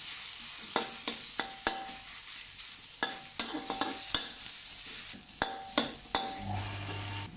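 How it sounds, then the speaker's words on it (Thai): A spatula clacks sharply against a wok while pounded garlic, coriander root and pepper paste stir-fries in oil over low heat, the scraping strikes coming in irregular bursts over a faint sizzle, close and alone. "แล้วก็เอาสามเกลือนะที่ตำไว้มาผัด ใช้ไฟอ่อนๆก่อนช่วงแรก"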